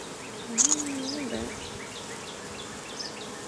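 Honey bees buzz during a beehive inspection in a low, steady drone, with a brief tonal voice-like sound and a short sharp noise early on.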